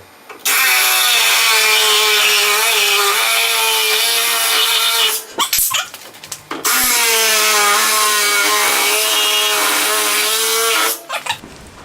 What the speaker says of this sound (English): let's get the Sawzall